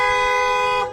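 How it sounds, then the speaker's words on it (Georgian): A car horn blasts once, a single loud, sustained toot lasting about a second, heard up close on a street where a taxi's way is blocked. "რატომ ისიგნალებს?"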